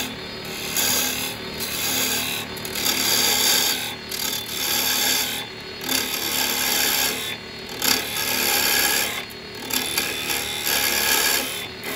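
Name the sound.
square carbide chisel cutting wood bowl on lathe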